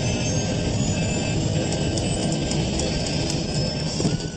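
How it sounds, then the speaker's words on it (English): A Pacific Southwest Airlines airliner plunging toward impact, heard as a loud, steady, close roar of engine and rushing air with a high whine running over it, unbroken throughout. "There was increased noise of the plane plummeting."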